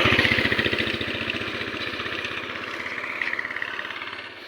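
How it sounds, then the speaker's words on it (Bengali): Motorbike engine on a village road throbs with a rapid, even pulse, loud at first and then gradually fading as it moves along. "বাবা বাইক আসছে, দাঁড়াও দাঁড়াও।"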